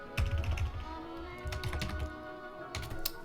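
A file name is typed on a computer keyboard, giving quick, close, fairly quiet irregular key clicks in short bursts over about three seconds.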